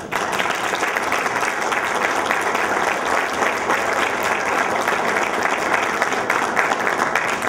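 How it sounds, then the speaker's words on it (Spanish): Sustained audience applause at an academic induction ceremony for new corresponding members, steady and dense from start to finish with no gaps, loud and close, a full room clapping together. "Y finalmente vamos a darle todo un nuevo aplauso."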